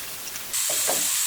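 Lemongrass, galangal and bay leaves hit a hot pan and break into a sudden steady sizzling hiss partway through, close and alone without talk.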